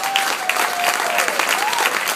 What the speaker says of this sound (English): Please applaud for yourselves now.